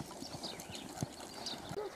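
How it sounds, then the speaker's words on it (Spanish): A horse, an eight- or nine-year-old chestnut working horse in Chascomús, Buenos Aires province, clip-clops at a steady walk, faint and fairly close, with a few hoof strikes alone. "un caballo de 8 o 9 años"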